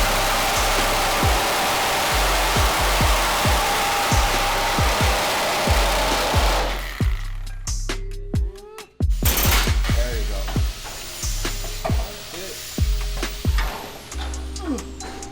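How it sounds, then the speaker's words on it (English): A power saw cuts through the rusted metal body of a 1970 AAR Cuda under restoration, giving a loud, steady abrasive roar that gives way to choppy cutting bursts, clicks and clanks, with faint voices in the background. "Let's get the saws on. Let's cut this here"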